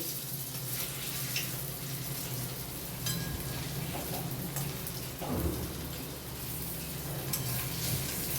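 Lentil fritters (bora) for moong posto sizzle steadily in hot oil, a soft continuous crackle with a brief louder spatter midway, no talking.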